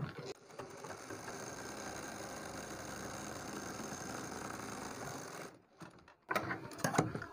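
A sewing machine stitches the two sides of a neck design together, giving a steady mechanical whirr for over five seconds, then a short pause and a few louder, sharper bursts of stitching near the end.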